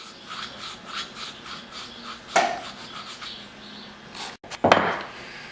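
Rasping strokes of a file sharpening the teeth of a vintage bear head bottle opener, a string of quick, close scrapes broken by a couple of sharper, louder grinding passes, with no voices.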